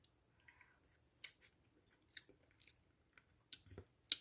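Bursts of crisp mouth sounds from someone taking a small taste of a French onion cordon bleu pie filling mix, several quiet, separate clicks and crunches with a sharper one near the end, no talk.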